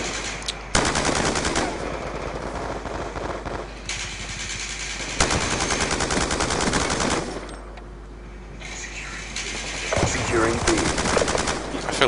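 Loud, sustained automatic gunfire from a first-person shooter video game, in long bursts of rapid shots with brief gaps between them. The sound is dense and harsh and fills the scene.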